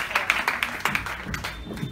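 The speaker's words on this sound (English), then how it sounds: "give applause" A short burst of audience clapping for a volunteer at a Bali comedy club, with moderately loud, scattered claps thinning out over about two seconds.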